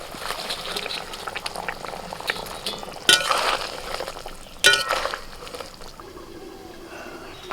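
Spice gravy with coriander leaves bubbles steadily in a pan as fried rohu fish is added, a continuous soft boiling simmer broken by two sharp splashes and clinks, fading quieter toward the end.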